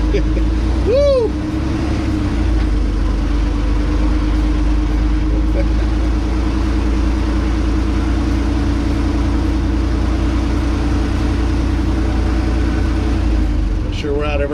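A truck engine at a port pulling forward, a steady low rumbling drone that runs throughout, with a brief chirp near the start and a faint rattle at the end.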